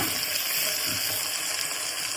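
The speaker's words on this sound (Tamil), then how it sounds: "தக்காளி வதங்கட்டும்." Chopped tomatoes sizzle and sauté in a hot pan for a curry base, a steady, close crackling hiss with no talk over it.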